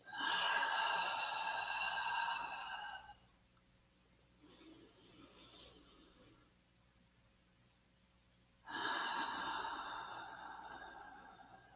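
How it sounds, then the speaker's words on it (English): Two long, slow breaths are taken in through the nose and out through the mouth, close and fairly loud, with a quiet pause of several seconds between them. "deep breath in through your nose and out through your mouth"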